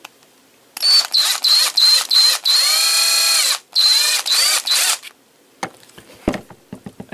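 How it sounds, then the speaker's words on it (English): A power drill boring a hole through the centre of a container for a budget CO2 generator, several loud whirring bursts and one long continuous run, close up, followed by quieter clicks and handling noises. "we're going to just drill a hole right in the center of this thing"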